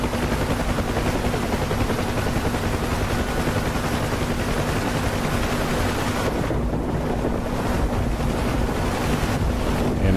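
A Bell UH-1 Huey helicopter in the DCS flight simulator, flying slowly near a hover over rough weather, with a loud continuous rotor and turbine roar mixed with heavy wind rush throughout.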